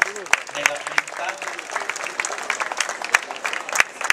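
A crowd claps and applauds as a flower bouquet is laid on a grave during a votive procession, steady clapping that runs under a voice speaking over it.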